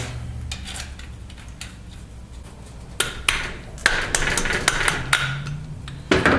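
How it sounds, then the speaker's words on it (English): Metallic taps from seating a ring gear onto the carrier of a Dana 44 TTB front axle on a Ford F150 during a locker install, a few sharp knocks and pings scattered over quiet shop background, close and moderately loud. "I'm just going to thread a couple bolts in and then tap it into place"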